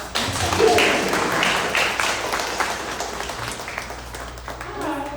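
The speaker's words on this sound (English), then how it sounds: "We can clap for that." A crowd at a book launch in Washington, DC, applauds warmly, a moderately loud, textured patter of many hands that swells early, then tapers and lifts again, with voices mixed in.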